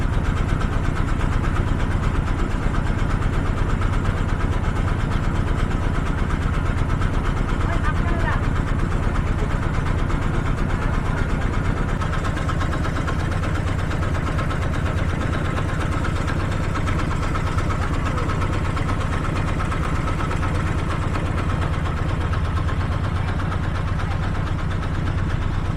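A hired trawler boat's engine drones steadily and loudly throughout as it crosses the Padma river near the Padma bridge, with muffled voices mixed into the constant rumble.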